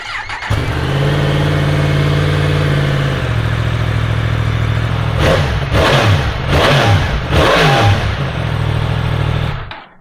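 A 2023 Yamaha MT10 motorcycle engine is revved hard and close: a sustained high-rpm roar at first, then a dip and a run of sharp repeated throttle blips that flare and fall before the engine cuts off.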